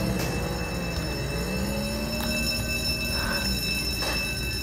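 A train passing in the Roblox game Jailbreak, a steady loud rumble of rolling cars with faint wheel squeal and a high whine on top, continuous throughout.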